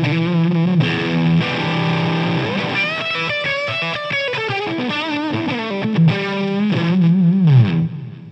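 Electric guitar driven through a Unison mic preamp used as a Fuzz Face-style overdrive, with a thick, saturated fuzz tone playing sliding bends and chords loudly and continuously, no voices.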